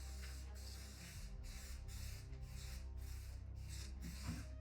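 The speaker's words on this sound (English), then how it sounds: "just spray a light coat on it" Repeated bursts of hissing spray from an aerosol can of flat black guide coat on a Tesla hood, several quick passes in steady rhythm, close by with a faint mechanical hum underneath.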